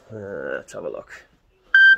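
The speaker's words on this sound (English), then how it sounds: "Excuse the phone beeping" Someone speaks briefly, then after a short pause a single clear electronic phone beep sounds.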